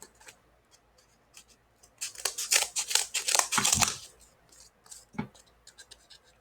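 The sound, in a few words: cutting craft material with scissors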